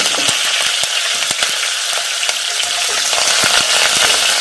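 Cumin seeds, mustard seeds and curry leaves sizzle in hot oil for a tempering, a steady close hiss broken by sharp crackling pops and spatters.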